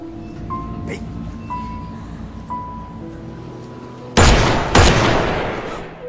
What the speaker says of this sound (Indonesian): akhirnya langsung menembak Hunter hingga mati